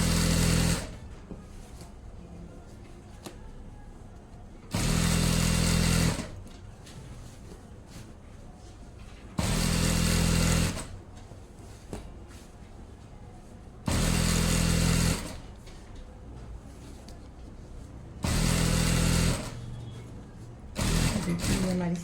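A sewing machine stitches trouser fabric in loud, evenly spaced bursts of about a second each, with quieter pauses between runs as the cloth is repositioned.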